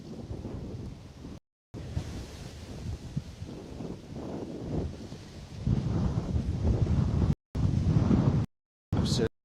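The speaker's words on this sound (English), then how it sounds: "Blast a wind now. You can see it on the grass in front, hopefully, and on the vegetation." Strong wind blows outdoors at Bristol Airport, buffeting the microphone with a loud, rumbling roar that surges and grows stronger, broken by a few brief dropouts.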